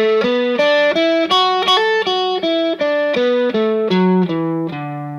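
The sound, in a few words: blues major pentatonic lick on distorted electric guitar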